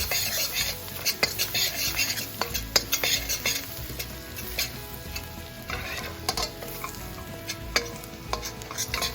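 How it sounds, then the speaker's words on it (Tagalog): Garlic sizzles in a pan and gets stirred for bangus sisig, a steady close frying hiss with frequent scrapes and clicks of a spatula against the metal. "Then, lagyan na natin yung garlic natin."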